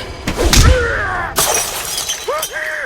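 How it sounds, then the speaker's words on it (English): A glass bottle smashes in the JoJo's Bizarre Adventure anime. Two sharp, bright shattering bursts are followed by tinkling debris, mixed with a voice speaking and crying out. "He smashed his teeth with a bottle."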